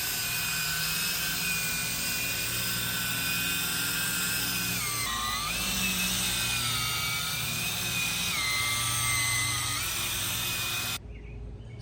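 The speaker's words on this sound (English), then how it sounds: "just doing a little more buffing" A power buffer polishes a repaired aluminum car door outdoors, a steady high whine that drifts in pitch as pressure changes, loud and close throughout before cutting off near the end.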